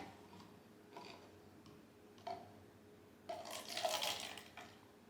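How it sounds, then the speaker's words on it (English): Water trickles and splashes briefly into a small red cup during a children's colouring activity, alongside a few light taps and clicks, fairly close and quiet. "Take that, pour a little bit there."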